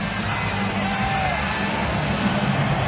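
A capacity arena crowd roars and yells steadily in a UFC 6 fighting game broadcast, a dense continuous wash of cheering and whoops with no pauses across the whole stretch.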